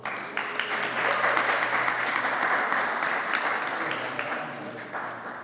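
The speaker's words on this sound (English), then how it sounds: "Can we give her a round of applause?" An event audience applauds after the mayor of Boston is introduced: a dense, sustained wash of clapping that swells early, holds steady for several seconds and thins slightly toward the end, with faint crowd voices beneath.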